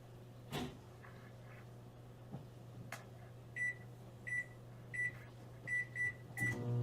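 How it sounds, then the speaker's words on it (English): A microwave oven heating sauce to melt butter, a steady low electrical hum throughout, joined by a few knocks and then a series of short high beeps toward the end. "We're gonna microwave that sauce, YouTube, for a minute, just to melt the butter"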